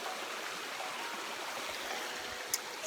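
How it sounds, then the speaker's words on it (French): A steady, close wash of river water flowing through a stream in Italy after a storm, dense and continuous with no talk, near a waterfall. "Là on est tranquille dans la rivière."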